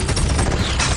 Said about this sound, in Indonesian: menyerang dirinya dengan tembakan secara bertubi-tubi ke arah